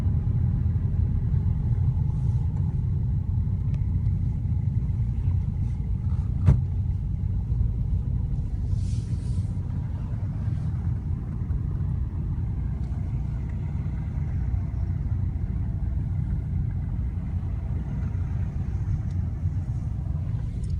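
Steady low rumble of car engines moving around a packed campus car park, continuous and fairly close, with a brief sharp knock partway through and no talking.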